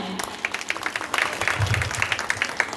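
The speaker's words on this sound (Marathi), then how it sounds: "एव्हरीबडी एकत्र 1 2 3 टाळ्या." Applause from an audience at a Women's Day event, a short burst of many hands clapping together, fairly loud and close, mixed with some voices.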